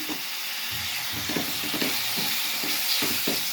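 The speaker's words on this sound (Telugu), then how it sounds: "ఇప్పుడు దీంట్లో చికెన్ వేసేసుకుందాం" Washed chicken with turmeric fries in a pan, giving a steady close sizzle and hiss broken by repeated scraping stirs, no talking over it.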